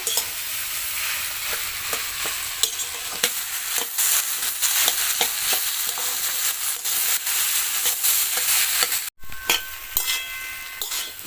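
A vegetable chop potato mixture stirred in a frying pan: a constant sizzling hiss with repeated scraping knocks of a spatula, a brief cut of silence, then a quieter sizzle with faint tonal clinks.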